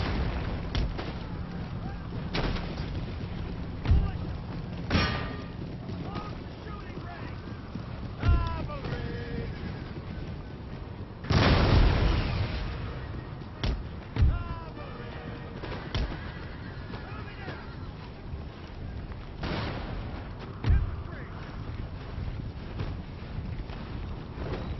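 Cannon and musket fire in the strategy game Empire: Total War, several heavy booms at intervals with one big blast near the middle, over a constant wind-like rumble, with occasional speech.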